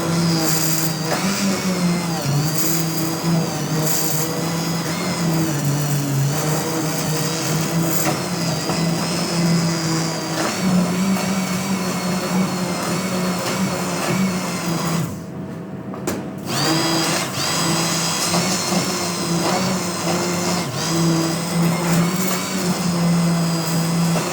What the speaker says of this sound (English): then I'm going to blend it again